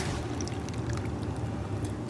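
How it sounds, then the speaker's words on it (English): About a quarter cup of water is poured into a stoneware ramekin of apple crisp, a short steady liquid splash and trickle heard close up. "I'm gonna add about 1/4 cup of water to each one"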